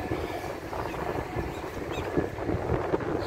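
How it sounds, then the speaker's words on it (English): Outdoor wind gusts buffet the microphone, producing an uneven low rumbling whoosh that rises and falls throughout. "Oh, it's windy."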